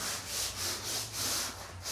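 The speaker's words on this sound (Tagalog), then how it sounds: "Nagliliha na" A worker hand-sands a bedroom ceiling before painting, a soft rhythmic back-and-forth rasp of sandpaper repeating in steady strokes, fairly faint and close, with no talking.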